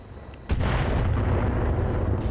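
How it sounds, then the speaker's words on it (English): A loud, sudden blast as LRM missile ammunition cooks off inside a Cyclops mech in RogueTech, a single boom followed by a sustained rumbling roar that carries on without letting up. "And actually, LRM ammo explosion,"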